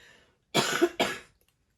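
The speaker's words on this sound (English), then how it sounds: "I know it's gross that I keep coughing on camera" Two harsh coughs in quick succession, close and fairly loud, followed by silence.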